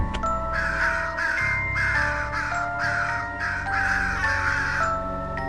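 A run of harsh crow caws, roughly eight in quick succession, loud and close, over a low humming bed of sound.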